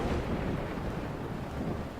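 Rain and a low rumble of thunder inside the video game Deadly Dyscourse form a dense, steady wash of noise, loud and unbroken, with no voices.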